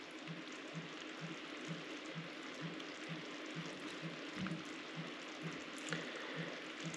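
Honeycomb sugar mixture boiling in a pan, a faint, steady bubbling with a regular soft pulse and a light background hiss.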